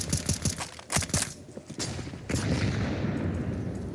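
A high-explosive grenade goes off in Counter-Strike on the Inferno map during a professional match, with sharp gunfire cracks first, then a sustained, rumbling burst of blast noise.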